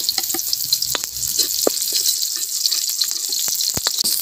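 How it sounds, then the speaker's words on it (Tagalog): Garlic and onion sauté in hot oil in a pan, a bright continuous sizzle close up, broken by scattered crackles and the scrape of stirring. "gigisa na po tayo ng ating bawang"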